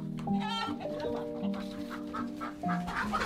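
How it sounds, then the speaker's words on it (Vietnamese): Chickens and ducks stir under the raised floor of a house in a northern Vietnamese mountain village, with a busy overlapping run of clucks, squawks and quacks heard close. "buổi sáng bắt đầu bằng âm thanh xáo động của đám gà vịt dưới sàn nhà"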